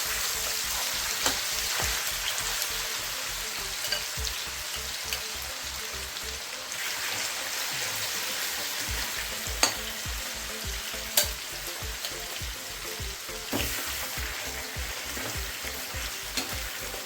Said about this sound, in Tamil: ஸோ இப்போ இந்த சிக்கனை வந்து நல்லா ஃப்ரை பண்ணி எடுத்துருவோம்.